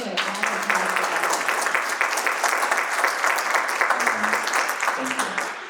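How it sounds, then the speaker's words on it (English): Audience at a fireside chat with a chef breaks into sustained applause, dense steady clapping throughout with a few faint voices mixed in. "let's get a round of applause for that"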